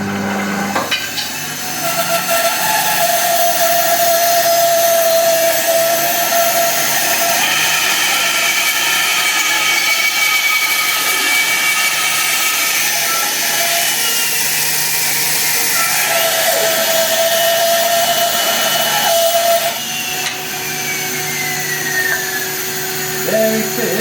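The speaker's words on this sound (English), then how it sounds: "So let's take this now and run this through the bandsaw and just see what we got." A bandsaw cuts through a fox-wedged mortise and tenon joint in wood, a loud steady motor whine with the blade's rising tone as it bites in, continuous across the cut with a short change near the end.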